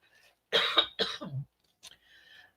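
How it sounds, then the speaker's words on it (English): A pair of close, harsh coughs in quick succession, followed by a brief faint rasp and breathy noise, with no talking. "Hold on, I got a cough."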